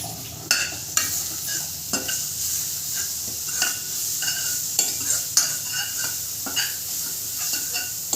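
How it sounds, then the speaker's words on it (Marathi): Raw ground masala paste being stirred and sautéed in ghee over a low flame, giving a soft continuous sizzle broken by regular scraping spoon strokes against the pan, close and unaccompanied by speech. "तुपात चांगलं परतून घ्यायचं"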